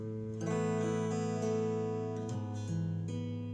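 Several strums on a Godin MultiAcs acoustic guitar ring out one after another, full-bodied and resonant, each chord sustaining clearly with no talking.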